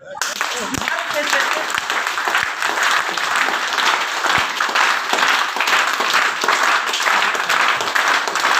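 A large group of people at a training session in Varanasi claps hard and continuously, a dense, loud patter of many hands with scattered voices mixed in.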